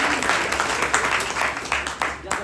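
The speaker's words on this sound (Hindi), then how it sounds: "सर के लिए जोरदार ताली।" An audience at a leadership skills training session clapping loudly for the instructor, a dense patter of hands with a few louder bursts, with voices mixed in underneath.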